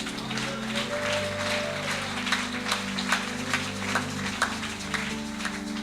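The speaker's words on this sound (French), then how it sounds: "Acclame très fort Jésus" A congregation at a church vigil claps in a steady rhythm over a sustained musical drone, the applause moderately distant and even throughout.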